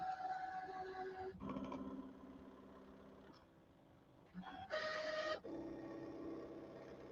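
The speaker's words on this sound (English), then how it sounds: "I'm going to hit start and watch this thing cut" A Brother Scan N Cut machine cuts a tree shape from fabric, its motor whirring in a steady mechanical hum that shifts pitch and pauses briefly between passes, quiet and close.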